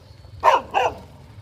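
A dog gives two quick, sharp barks close by, spaced about a third of a second apart, over a faint low background hum with no talking.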